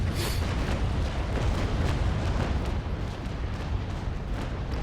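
A ship's cannon broadside fires in the Naval Action naval video game, a dense, continuous rumbling roar of guns that holds steady and loud for several seconds with no voices.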